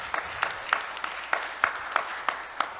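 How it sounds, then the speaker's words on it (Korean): A small audience at an academic health conference gives a short round of applause welcoming a panel speaker, heard as sparse, evenly spaced claps at moderate volume over a faint room hum. "박수로 맞아주시기 바랍니다."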